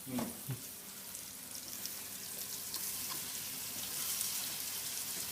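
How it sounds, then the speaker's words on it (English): Steady sizzling and crackling of pork chops frying in hot coconut oil, a continuous hiss with a few pops near the start. "Coconut oil is awesome for frying in, as Vinny's doing with the pork chops here"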